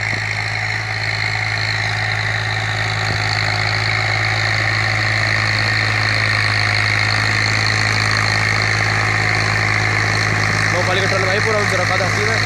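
A Massey Ferguson 245 tractor engine pulling a 9-tine cultivator in a field, its silencer bent, runs as a loud continuous mid-pitched drone with steady vibration throughout.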